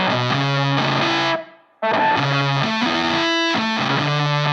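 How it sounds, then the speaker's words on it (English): An octave fuzz guitar pedal, switched on with its drive gained up, produces thick, glitchy distorted chords. The wall of sound stops briefly, then returns with sustained ringing notes at a steady, loud level, and no one speaks. "So it is an octave fuzz."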